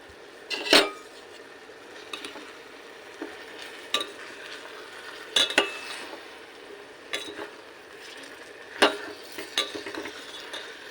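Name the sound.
stirring dried shrimp and cucumber curry ingredients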